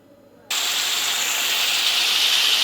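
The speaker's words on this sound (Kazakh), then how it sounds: "Қатты қызып тұрған майға мен етті салып қуырамын." Meat, for plov, hits very hot oil and breaks into a sudden loud, steady hissing sizzle that continues evenly and close up, with no voices present.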